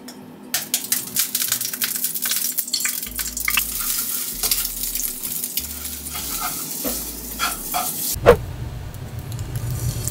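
Eggs sizzle and crackle in hot cooking oil in a home kitchen pan, a loud continuous frying hiss broken by scraping and clinking as the food is stirred, ending with a sharp clatter.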